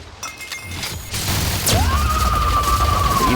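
Rapid gunshots crack in The Outer Worlds as a character fires at a dead body, a close, loud burst followed by a whooshing, ringing sweep.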